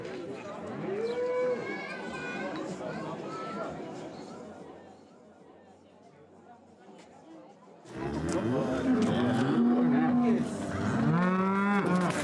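Cows moo loudly and repeatedly at a farm open day, several long bellows near the start and a louder cluster later, with people chattering in the background and a quieter stretch between.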